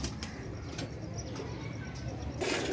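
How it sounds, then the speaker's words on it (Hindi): Pigeons coo softly in a loft, low murmuring calls repeating under a faint background hum, with a short rustle of wings near the end. "ये कबूतर है"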